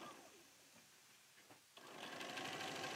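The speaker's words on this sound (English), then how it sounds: "So I'm just going to stitch right along that line." A sewing machine stitches a quilt seam, starting after a quiet pause with a rising mechanical whir that settles into a steady, fast, close running hum.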